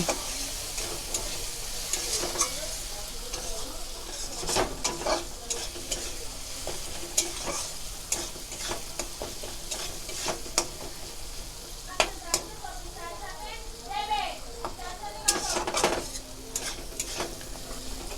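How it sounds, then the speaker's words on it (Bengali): Egg curry masala with Kashmiri chilli powder and salt being stir-fried in a pan: a steady oily sizzle runs throughout, broken by repeated scraping and clacking of a spoon against the pan, heard close up with occasional faint voice in the background. "এবার এগুলোকে সব আমি ভালো করে কষিয়ে নেব।"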